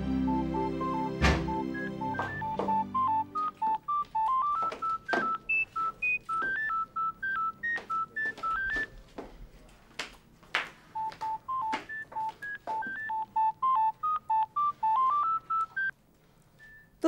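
A mobile phone being dialed, with a long run of crisp electronic keypad tones, some short and some held, in quick irregular sequences, close and clear with no voices.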